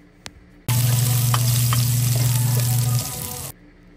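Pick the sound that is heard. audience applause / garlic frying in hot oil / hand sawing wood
garlic frying in hot oil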